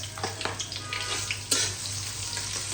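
Onions frying in a pan for a spiced liver curry, a steady close sizzle with a low hum underneath and a few light stirring scrapes, one slightly sharper clack near the end.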